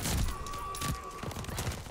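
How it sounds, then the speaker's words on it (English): Rapid gunfire from a PPSh submachine gun in the video game Call of Duty: Vanguard, with dense bursts and sharp cracks that stay loud and continuous across the short stretch. "That's a PPSH for y'all. With those beautiful tracers."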